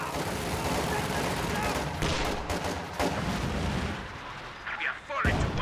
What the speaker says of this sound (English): nice shot by the infantry support gun there